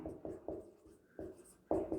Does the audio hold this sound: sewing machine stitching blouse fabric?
no